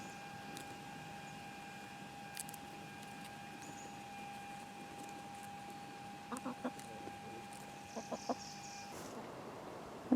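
Backyard chickens cluck softly in short bursts as they peck at a stripped broccoli plant, faint and intermittent over a steady background hum.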